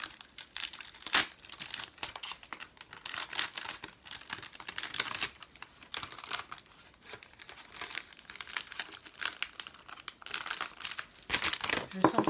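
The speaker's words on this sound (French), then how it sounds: "Est-ce que je vais arriver à remettre ça dans le sachet?" A plastic packaging sachet is crumpled and crinkled while being refilled with diamond painting supplies, giving close, continuous rustling with sharper crackling bursts throughout and no talk.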